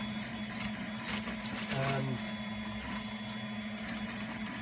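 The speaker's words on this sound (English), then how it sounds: "Now I've got my printer working again" A 3D printer runs steadily on a workbench, its stepper motors giving a continuous whirring hum with short rising and falling motor tones as the head moves, while someone talks over it.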